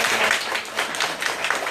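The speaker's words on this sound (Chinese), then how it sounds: "我们先邀请大家呢用热烈掌声先感谢一下想安大哥" A small audience at a gathering in Zhongli gives a brief burst of warm applause for Xiang'an. The clapping is dense and steady for under two seconds, with no talk over it.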